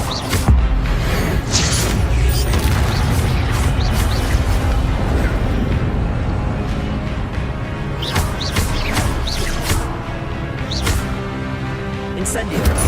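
Fiery spell blasts from Incendio casts in Hogwarts Legacy, whooshing bursts and sharp pops over a constant roar of combat and game sounds, with talk heard over the mix.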